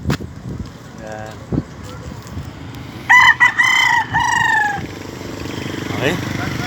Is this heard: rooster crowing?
yes